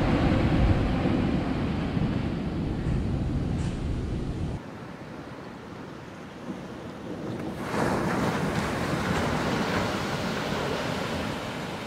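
Sea waves rolling in at high tide near full moon on the Vengurla coast, a steady loud roar of surf with wind buffeting the microphone, easing briefly midway before swelling again.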